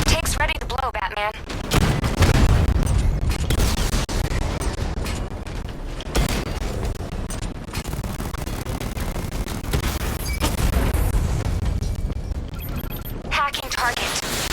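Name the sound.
explosion of a tank in Batman: Arkham Knight video game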